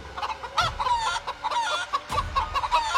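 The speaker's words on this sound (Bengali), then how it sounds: "সেই মুরগি ঘর থেকে ভয়ানক শব্দ ভেসে আসে। মুরগিগুলোকে যেন কেউ প্রচন্ড ভয় দেখাচ্ছে।" Chickens squawking in fright inside a village coop at night, a close, loud burst of panicked clucks and shrill cries overlapping in rapid, uneven succession, with no voices.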